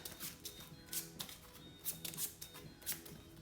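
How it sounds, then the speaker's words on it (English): A deck of cards from the tabletop game Aristeia! being shuffled by hand, heard as a quick series of soft, crisp riffling flicks in an irregular rhythm, close and quiet. "So I shuffle this to my deck."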